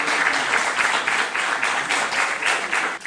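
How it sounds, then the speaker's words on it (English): A crowd applauds quiz teams at a junior quiz event, giving a steady, continuous wash of clapping that stays loud throughout. "A round of applause for them."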